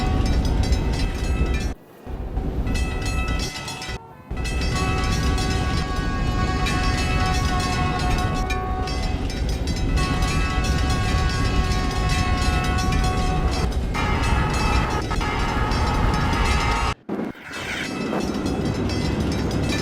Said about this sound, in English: Now arriving on track 2 is a Maximum Amenity Express northbound service to Washington, D.C. Union Station